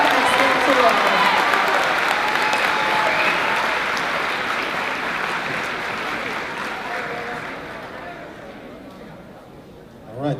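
An audience at an 8th grade moving-up ceremony applauds academic excellence award recipients in a school hall, a loud sustained wash of clapping that gradually thins out and fades toward the end.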